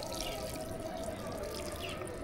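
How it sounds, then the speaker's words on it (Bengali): Water is poured into a plant pot, making a continuous close trickling, splashing stream that runs steadily throughout the short stretch without pause. "তাহলে আমরা এই জল দিই।"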